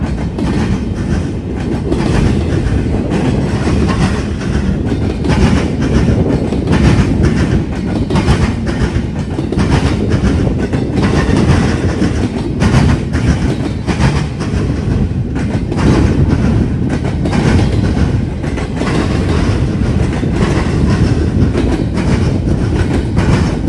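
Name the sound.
BNSF freight train led by Pumpkin GE locomotives passing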